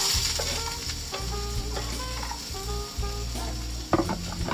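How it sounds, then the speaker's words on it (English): Garlic and onion sautéing in a frying pan, a steady close sizzle with occasional stirring clinks and scrapes, heard alone without talk. "my garlic and my onion and we're just gonna pop it in the pan"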